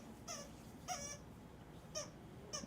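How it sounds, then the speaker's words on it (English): A dog toy squeaks four times in short, evenly spaced pairs against a steady low background hum, fairly faint, with no talk. "squeaking her dog toy"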